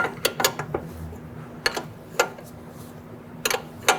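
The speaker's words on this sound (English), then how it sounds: "We can use our 15/16 wrench, tighten down our nut." A 15/16 wrench tightens a nut on the front lower control arm of a 1994-2004 Ford Mustang, giving a scattered series of sharp metallic ratcheting clicks in irregular bursts, close up and without talk.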